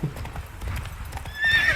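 A horse in the game Witcher 3 whinnies: muffled hoof clip-clops and low snorts lead into a loud, high, wavering neigh near the end, close and with no voices over it.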